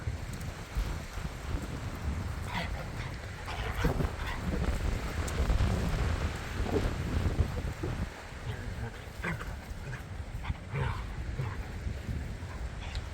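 Steady roaring wind with rain in a forest and mountain area buffets the microphone throughout, a constant low rumble with gusts rising and falling, and faint distant sounds underneath.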